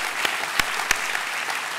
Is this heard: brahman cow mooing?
no